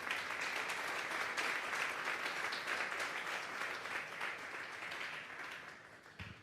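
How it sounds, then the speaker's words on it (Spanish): A church congregation at a Sunday service applauds in a full, continuous burst of clapping heard at a moderate distance, holding steady and then tapering slightly near the end. "Den un fuerte aplauso pues al Señor."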